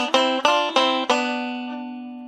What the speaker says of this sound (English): we're going to brush with double stops to do those that same melody line.